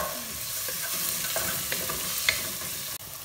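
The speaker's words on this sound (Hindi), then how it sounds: "अब इसके अंदर आप चॉप किया हुआ अनियन ऐड कर दें और इसे सौते कर लें।" Chopped onion sautéing in a few spoonfuls of oil in a pan, a continuous soft sizzle with stirring scrapes and small clinks near the end, no talk.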